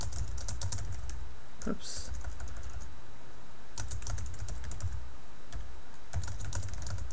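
Computer keyboard typing as text is entered in a word processor, bursts of quick key clicks separated by pauses, with a brief spoken word partway through.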